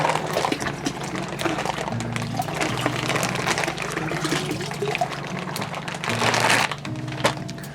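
Liquid pours and splashes into a fermenter while a Shiraz wine kit is topped up toward 23 litres, a continuous close trickle and gurgle with scattered clinks and a louder surge near the end.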